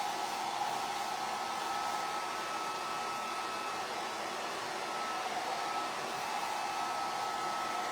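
A hair dryer blows steadily on freshly painted holiday decor to dry it before chalking, a close, even whoosh with no break and no talking.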